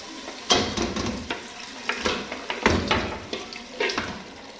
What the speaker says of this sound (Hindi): अब इसमें हम जो बोटियां वो डालेंगे और मज़ीद 5 मिनट तक इसको भूनेंगे